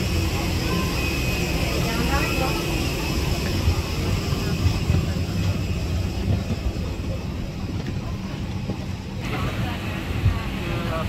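A steady, droning roar of airplane cabin engine noise on a flight to Samarinda, Kalimantan, fills the whole stretch, with faint murmuring voices mixed into the hum.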